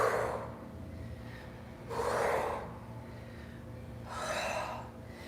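Deep breathing during a vinyasa yoga session: three slow, airy breaths swell and fade in a steady rhythm, close and fairly quiet over a low background hum, with no talking.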